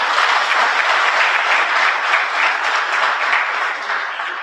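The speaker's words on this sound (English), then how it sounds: "May we clap for this sector." A conference audience at an ICT association event applauds a presidential remark, loud, dense and continuous clapping close up that eases slightly toward the end.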